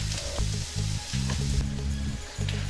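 A medium onion frying in sesame oil and coconut oil for Cajun shrimp fried rice, with a close, loud, steady sizzle broken by brief stirring pauses and no talking.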